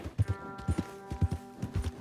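Horse hooves clip-clop in Red Dead Redemption 2, a horse carrying a rider and a passenger, with steady paired hoofbeats in an even walking rhythm, soft and close with a faint hum behind them.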